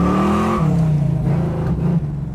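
A 1969 Chevrolet Camaro with a big motor, four-speed and loud exhaust roars close by as it accelerates from a roll and breaks the tires loose, engine pitch dropping slightly across a gear change amid a rough, throaty rumble.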